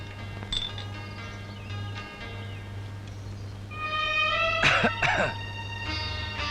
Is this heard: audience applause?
no